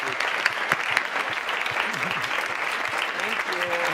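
An audience at an evening talk applauds, steady dense clapping filling the room for several seconds, with a few sharper nearby claps standing out.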